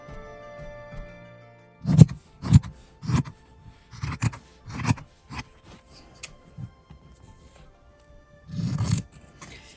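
A series of short crisp snips from scissors cutting fabric, irregularly spaced, close by, with a longer scrape near the end.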